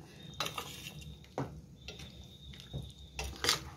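A utensil stirring chicken kurma gravy in a metal pot, giving several sharp clanks and scrapes spaced irregularly, with a faint sizzle underneath.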